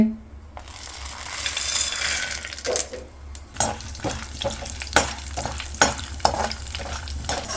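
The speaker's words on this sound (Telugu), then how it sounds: "ఇప్పుడు ఇదే నూనెలో వేరుశనగ గుళ్ళు పచ్చనపప్పు వేసుకొని వేపుకోవాలంటండి" Peanuts and chana dal fry in hot oil for a cucumber chutney, a steady sizzle with repeated clinks and scrapes of stirring rising over it in an uneven rhythm.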